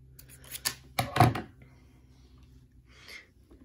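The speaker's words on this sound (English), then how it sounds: "triple knot that and cut off a little extra tail" Scissors make a few quick, close snips as they cut the extra string tail on a beaded kandi jellyfish, followed by quiet handling sounds.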